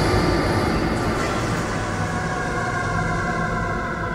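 Train 8017, a passenger train running on rails between towns of war-damaged southern Italy, heard as a steady loud rumble with continuous wheel-on-rail noise throughout and no voices.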